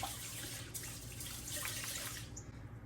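Raw rice swirled by hand in a bowl of rinse water gives a soft, steady sloshing and trickling, faint and continuous with no talking.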